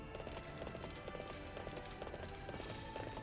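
Horse galloping in Warriors Orochi 3, a fast, steady clip-clop of hooves repeating evenly throughout, quiet, with no talk.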